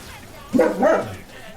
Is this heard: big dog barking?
yes